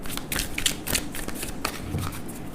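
Tarot cards shuffled by hand during a reading: a quick series of soft riffling, flicking snaps, close and moderately quiet, with no talking.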